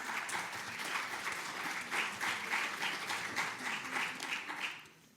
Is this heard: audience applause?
yes